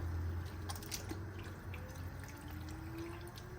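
Paper-thin sheets of börek dough are swished and squeezed in a basin of water like laundry, with soft sloshing, drips and wet squishes that go on steadily and close by.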